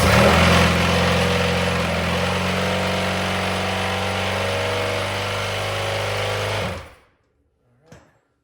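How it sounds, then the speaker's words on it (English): A fuel pump primes on a Yamaha Banshee ATV, a loud, close, steady mechanical buzzing whir that runs for several seconds before stopping abruptly, followed by silence and a single faint click. "This does have a fuel pump, so we gotta prime it."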